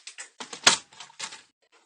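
A blade cutting purse material along a straight edge, heard as a short series of close, crisp scraping strokes with one sharper slice in the middle, quiet and without talk.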